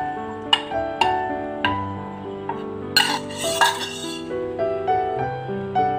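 A spoon clinks and scrapes against a bowl in repeated strokes, stirring pumpkin cake batter with bright metallic taps every half second or so.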